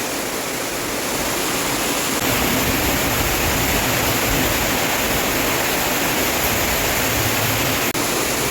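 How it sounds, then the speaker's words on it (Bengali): A heavy, thick stream of rainwater pours straight down onto lotus plants below during a downpour, a steady, dense roar of rushing water that holds unbroken and loud throughout. "এই যে এত মোটা ধারার জলটা, সেটা সরাসরি পদ্ম গাছগুলোর উপর পড়ছে"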